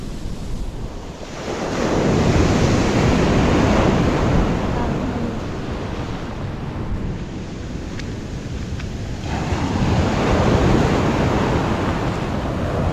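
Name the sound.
ocean waves on the beach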